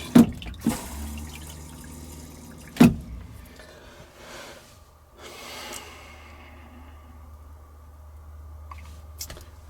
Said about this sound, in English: we'll go ahead and flush. Let's get some water in there.